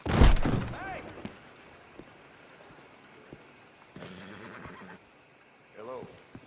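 A horse whinnies loudly at the start, followed by softer snorts and neighs, with a hoof thunk and a brief voice between them, in the video game Red Dead Redemption 2.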